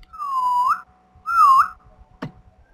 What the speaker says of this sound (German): Er pfeift.